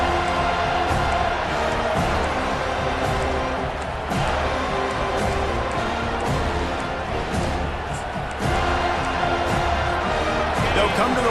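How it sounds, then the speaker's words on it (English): A stadium crowd in the College Football 25 video game, Wisconsin versus FSU, roars loudly and steadily throughout, a dense wall of cheering with speech mixed in. "how nice is it to have the home crowd going absolutely bananas?"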